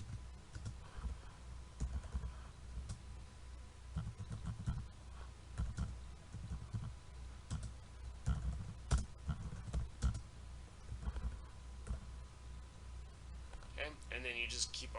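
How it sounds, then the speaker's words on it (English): Irregular clicking of keys being typed, quiet and close, with occasional louder taps and a short sound near the end. "So you put your hands in the correct places, and then you start typing."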